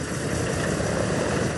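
An Antonov An-2 biplane's propeller engine idling before takeoff, a loud, steady droning roar with a low throbbing rumble, continuous and close.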